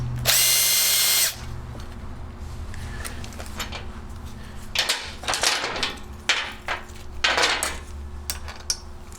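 A power tool with a socket breaks loose the bolts on a generator head, with a loud burst of whirring up front, then clanks and rattles from the socket and bolts.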